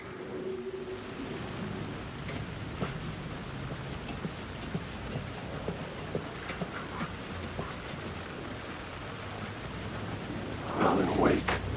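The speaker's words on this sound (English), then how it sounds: "The rain never stopped falling." Steady rain falling in the video game Alan Wake 2, set in New York, a dense continuous hiss throughout with a brief louder swell near the end; no distinct thunder crack stands out.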